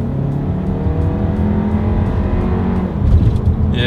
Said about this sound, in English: let's see how quickly we can get this new 2020 Volkswagen Tiguan here up to speed